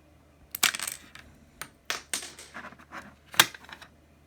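Keycaps being popped off a computer keyboard ahead of fitting a Razer metallic keycap set, a series of sharp plastic clicks and snaps at irregular intervals, close and fairly crisp, with no talking.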